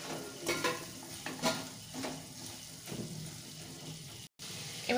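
Fried potato and cauliflower pieces being stirred into a spice masala in a pan, with soft scraping strokes over a low sizzle and a brief dropout near the end.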